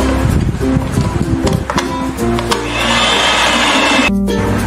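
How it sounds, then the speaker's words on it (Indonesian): An electric mixer beats batter at its lowest speed, with irregular clatter at first and then a steady, fairly loud motor whine. "kita lanjut mixer tapi menggunakan kecepatan paling rendah saja, kurang lebih 1 menit."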